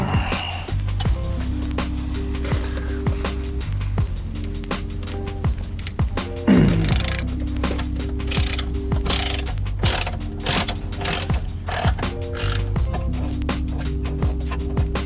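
A ratchet wrench removes bolts from a Jeep Wrangler TJ during a winch plate install, rapid close clicking of the pawl in repeated bursts over a constant low hum, with a few sharper clanks and no speech.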